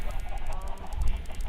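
Chickens in modded Minecraft cluck in quick, repeated bursts over a low, busy background hum, close and fairly loud for the whole moment.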